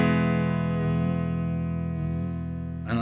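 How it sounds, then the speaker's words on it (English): Sustained electric guitar chord through an MP Custom FX Voodoo Vibe pedal set with controls centered, its pitch vibrato wavering steadily and close, alone for about three seconds before a short noisy burst. "you can hear what it actually is a pitch vibrato"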